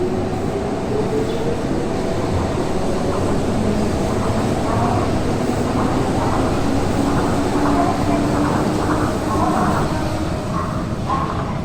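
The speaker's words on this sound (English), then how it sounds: "There's our train." A train pulls into a Tokyo station platform, a steady loud rumble and rail hum building and holding throughout, with faint voices in the background.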